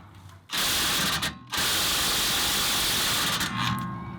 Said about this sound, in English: We got this electric impact.